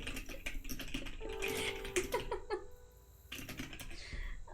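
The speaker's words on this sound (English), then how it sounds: "I don't know if Cole can hear because I'm typing." Rapid, irregular clicking of keys on a computer keyboard, close by, with a few brief tonal beeps and some background hum.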